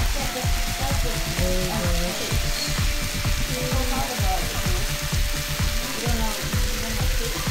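Philly cheesesteak meat fries on a hot surface with a constant close sizzle, broken by repeated scraping and clicking from spatula work and faint background tones.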